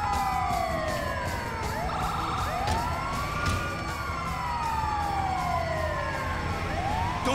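Ambulance siren wailing in the video game GTA 5, sweeping up and down continuously and loudly across the whole stretch, with engine and street noise beneath and occasional voices.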